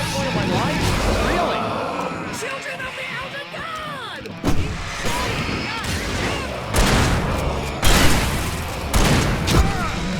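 Repeated gunshots and heavy booming blasts from the video game Alan Wake Remastered, loud and dense, in several bursts with someone talking over the gunfire.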